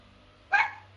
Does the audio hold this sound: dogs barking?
yes